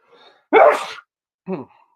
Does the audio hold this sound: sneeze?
yes